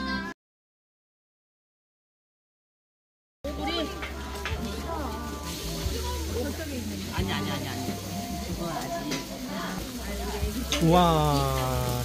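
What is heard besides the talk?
food sizzling while frying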